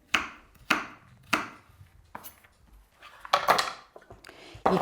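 Knife chopping carrot and other vegetables on a board in a home kitchen, sharp distinct strikes in an irregular rhythm, close and fairly quiet.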